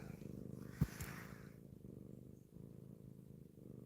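A cat purrs close up in a soft, continuous rhythmic rumble, quiet and steady throughout, broken early by one brief sharp rustle or bump.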